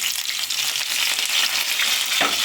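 Tempering seeds, dried chillies and mustard seeds fry in hot oil with a dense, loud, crackling sizzle, ending in a brief spatter or pop.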